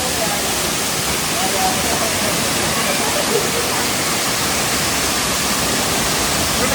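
Waterfall deep in the hills of Nepal, fast-moving water crashing in a loud, steady, broadband roar that fills the whole clip, close by and unbroken.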